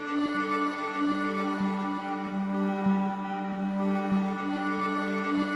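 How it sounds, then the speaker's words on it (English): Two auto pan effects in Ableton on a sustained droning synth tone, making a swirling stereo movement; the steady layered pad continues alone with faint soft pulses. "have this almost swirling effect between the two?"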